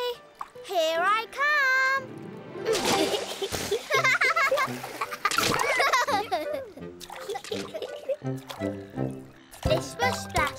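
Cartoon characters jump into a brand new pool, throwing up bursts of splashing water amid excited children's voices and chatter, the splashes recurring through the scene.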